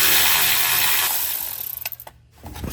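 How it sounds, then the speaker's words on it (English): A 10mm socket on a ratchet removing the heat shield bolts from a Jeep Wrangler frame: steady mechanical whirring that turns into a fast run of close ratchet clicks, then a short pause and a few more clicks. "now using a 10mm socket, I'm going to remove the 2 bolts securing the heat shield to the frame"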